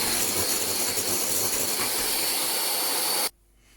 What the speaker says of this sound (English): Now I've been beating my egg whites for 5 minutes.